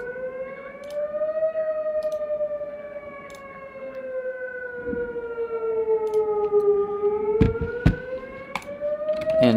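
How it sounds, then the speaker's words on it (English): Tornado sirens in the video game Twisted wail steadily and loudly, their tone slowly rising and falling, with a few faint clicks and thumps underneath. "You can see, or you can hear our tornado sirens going off."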